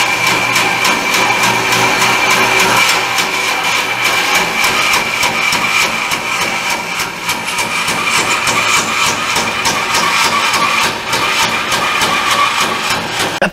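An oak rocker part is cut on a saw whose blade was once kinked and flattened, giving a loud, steady motor whine with a faint repeating thump from the blade throughout.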